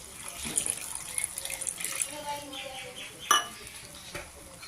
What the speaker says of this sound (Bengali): এখন এর মধ্যে আমি সামান্য পরিমাণে জল দিব।